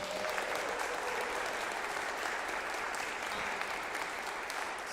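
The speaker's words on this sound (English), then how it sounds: "So I would really love to have a round of applause for Steve." A church annual meeting congregation gives a sustained round of applause, dense and even, at moderate distance with no talking over it.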